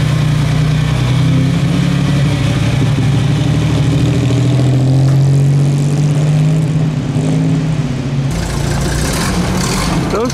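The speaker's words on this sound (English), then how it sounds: "Looks like a Jaguar, sounds like a Jaguar." A classic Jaguar sports car at the Mille Miglia road rally makes a loud, close, steady engine drone with a low rumbling tone that holds for the full stretch.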